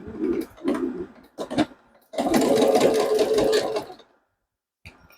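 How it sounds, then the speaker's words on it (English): A sewing machine stitching a scrappy coin purse, running in several short bursts and then one longer steady whirring run of about two seconds, close and fairly loud, with a faint click at the end. "I'm going to show you as I sew mine"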